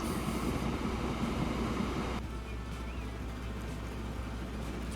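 An empty freight train runs on a railway in Transport Fever 2, a steady broad rumble that drops to a quieter, lower drone partway through, heard alone without talking.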